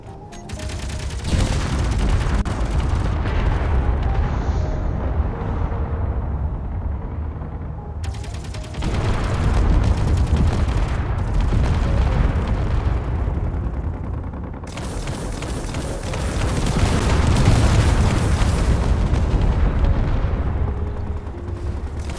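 Pirate ships trade fire in a Space Engineers battle, missiles and Gatling guns producing continuous loud rattling bursts and booming impacts in three long waves, separated by brief sharp cutoffs, with no talking.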